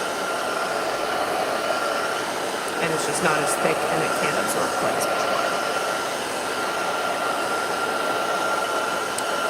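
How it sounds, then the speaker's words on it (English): A hair dryer blows with a steady, loud whooshing roar throughout, while a person talks over it. "I apologize for this hairdryer noise."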